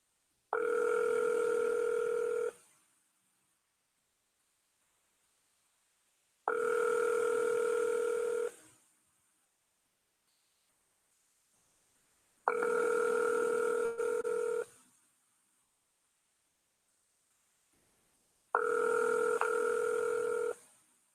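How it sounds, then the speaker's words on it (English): A telephone tone pattern during a repeated call attempt: four steady, loud tones of about two seconds each, separated by roughly four-second silences, with no talking. "I'll try the phone call again."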